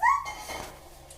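A small child imitates a dog's bark with one short, high yelp followed by a brief softer trailing sound, close and alone.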